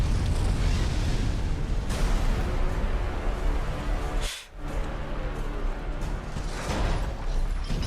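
Bowser, king of the Koopas, breathes a loud, sustained roar of fire across a city in the Mario movie trailer, with a rumbling blast that keeps going for several seconds and dips briefly midway.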